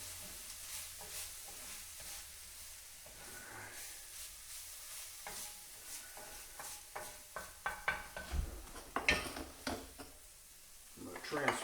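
A quiet sizzle of garlic in a frying pan runs underneath, with a spoon scraping and clinking against the pan as it is stirred, louder near the end.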